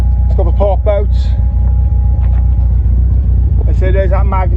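Ford Fiesta RS Turbo, a 1990s hot hatch, idles with a deep steady exhaust burble, loud and close, while someone talks over it.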